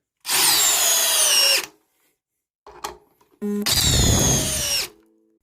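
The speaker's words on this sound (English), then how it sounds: "We'll run a couple of these lags, high speed." A compact power drill drives lag screws at high speed in two loud whirring runs of about a second and a half each, separated by a short pause with clicks of repositioning.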